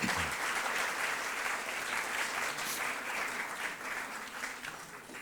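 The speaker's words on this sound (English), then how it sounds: "We can applaud them." Steady applause from a ceremony audience, dense and sustained clapping that fills the whole stretch without pause, slightly distant and moderately loud.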